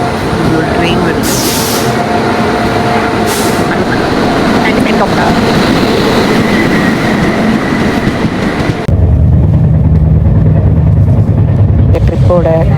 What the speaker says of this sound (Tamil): ஒரு ட்ரெயின் வருது.